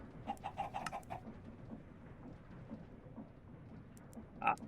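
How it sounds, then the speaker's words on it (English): Chickens clucking in the Mechanical Mastery video game, a quick run of short clucks at the start, then a quiet stretch and one louder cluck near the end, faint overall. "I hear you, chickens."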